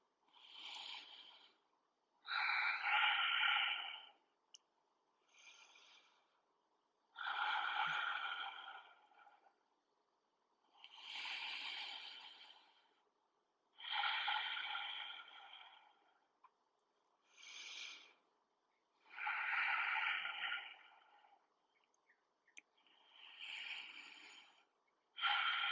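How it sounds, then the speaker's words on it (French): Slow, deep breaths taken while holding a lizard or dragon yoga pose, long inhales and exhales repeating in a steady rhythm, close and quiet with pauses of silence between. "Et je respire, 10 respirations profondes et longues dans cette posture du"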